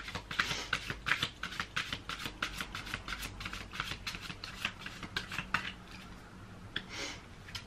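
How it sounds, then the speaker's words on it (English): Rapid, crisp riffling and snapping of tarot cards being shuffled, a close, busy patter of short flicks that eases off near the end. "Right, I'm going to give the cards a shuffle."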